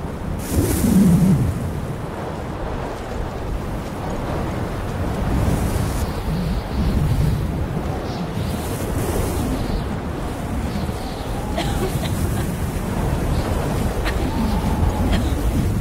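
Strong wind blowing outdoors in open country with little cover, a continuous loud roaring buffet against the microphone, gusting and rumbling throughout with no talking.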